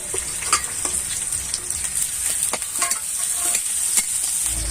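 Chopped onion and green chili sizzle steadily in a pan of hot oil, with a constant bright hiss and occasional crackles and stirring scrapes, close up with no talking.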